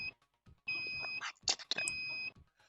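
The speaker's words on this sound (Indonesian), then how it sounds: "Token listriknya bunyi, Mas." A prepaid electricity token meter beeps inside a video game. Long, steady, high electronic tones sound in a couple of stretches, broken up by short clattering game noises.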